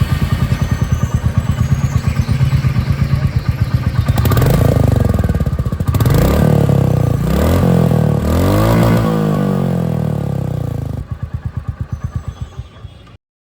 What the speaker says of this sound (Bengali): আর এবার আমি আপনাদেরকে এখানের যে এক্সস্ট সাউন্ড সেটাও একবার